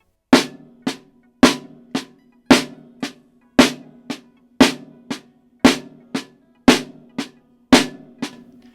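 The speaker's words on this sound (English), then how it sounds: "That's just loud followed by soft, soft followed by loud." Drumsticks alternate downstrokes and upstrokes on a drum in a steady pattern where a loud hit is followed by a softer one, repeating cleanly, close up with no voices.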